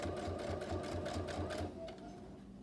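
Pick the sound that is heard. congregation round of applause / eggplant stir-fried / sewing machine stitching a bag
sewing machine stitching a bag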